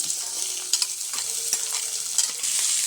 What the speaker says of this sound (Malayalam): ഈ സമയത്ത് നമുക്ക് ചെറിയുള്ളിയും സവാളയും അരിഞ്ഞത് ഇട്ട് കൊടുക്കാം.